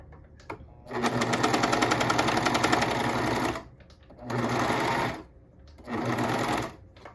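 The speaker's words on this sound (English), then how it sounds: "I like to sew from the folded edge over first." A sewing machine stitches the bands of leggings from the folded edge, running in three loud, rapid mechanical bursts of about two and a half, one, and one second, separated by short pauses, close up with no talk.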